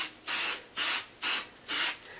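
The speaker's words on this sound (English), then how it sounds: "I'm going to use just a tad of sticky spray." Sticky spray adhesive hisses onto a sweatshirt in four short, even bursts with brief pauses between them, close and loud, with no talking.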